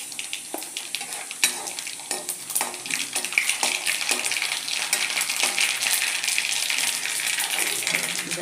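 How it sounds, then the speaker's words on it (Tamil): Mustard seeds tempering in hot oil with lumps of asafoetida, making a bright, continuous sizzle close by, scattered with quick crackling pops and light clicks throughout. "அதுக்கப்புறம் வந்து கடுகு தாளிச்சிடுவோம்."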